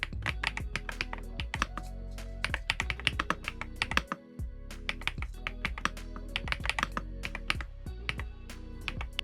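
Computer keyboard typing during a writing session, a steady run of close, crisp clicky keystrokes with brief pauses and a short gap near the middle, no talking.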